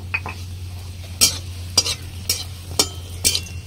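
Bori lentil dumplings frying in plenty of oil in a kadai: a low steady fry with crisp spatula strikes and scrapes recurring about every half second, close and clear.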